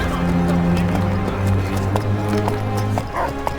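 A horse gallops in the Dark Messiah of Might and Magic video game, its steady rapid hoofbeats loud and close over a sustained low droning game soundscape, with occasional faint neighing-like tones.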